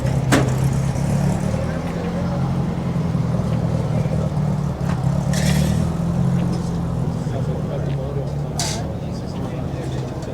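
VW buses rolling in at an early-morning winter Volkswagen show and swap meet in Long Beach, a low idling engine rumble nearby with passing vehicles and occasional clatter, while people talk over it.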